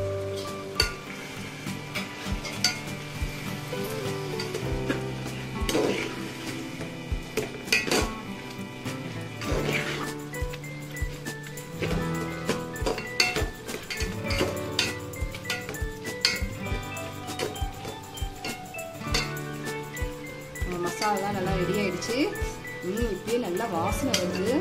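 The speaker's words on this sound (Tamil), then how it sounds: "சிக்கனை போட்டு நல்லா கலரலாம்" Chicken stirred in a frying pan for biryani, with repeated metal spoon clanks and scrapes against the pan over a soft sizzle, close and irregular, while a voice talks throughout.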